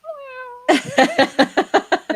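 A cat gives one drawn-out meow, followed by a rapid series of about eight short, loud chattering cries in an even rhythm, close up.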